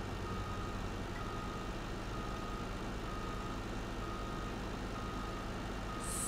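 A truck reversing in the Farming Simulator 19 game gives off steady, repeating back-up beeps over a constant engine drone, with no one talking.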